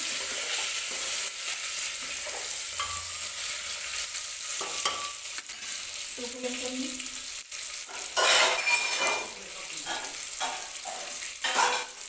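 Food sizzles and fries in hot oil while a utensil stirs and scrapes the pan, with a brief spoken word partway through; stuffed brinjal being sautéed.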